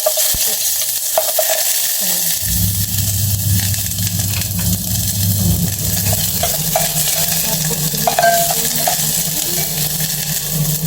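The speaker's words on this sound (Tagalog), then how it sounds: "Tapos, lagyan na natin yung ating sibuyas." Chopped onion dropped into hot oil in a frying pan, starting with a burst of sizzling after a quiet moment, then a steady crackling fry with occasional stirring clinks.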